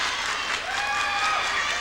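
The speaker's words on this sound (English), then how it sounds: "The crowd noise goes up a few notches" Steady applause from an arena crowd at a 1992 Illinois high school girls gymnastics state finals, a continuous wash of clapping with faint voices mixed in throughout.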